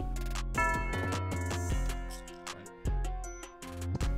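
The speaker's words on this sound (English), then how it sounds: "next we got a bell" A bell sound rings out in a trap beat, bright repeated tonal strikes with ringing overtones following the melody in a steady rhythm, loud and with no talking.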